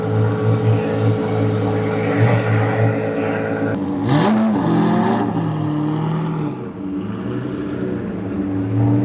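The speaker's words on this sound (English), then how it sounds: "There goes another SEMA car," A modified SEMA show car, an Agile wide body, revs and roars past up close in Southern California, pitch sweeping as it goes by, over a constant low background drone.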